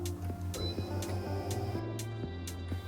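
A Kala Applikator flatbed laminator driven by an electric motor hums at a low, steady pitch, with a regular ticking pulse about every half second and faint mechanical clicks, fairly quiet and close.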